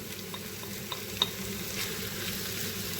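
Diced meat, cut small and already sautéed, sizzling steadily in a hot pan for an eggplant roll dish, with a few faint stirring clicks and one brief sharp tap over the continuous frying hiss.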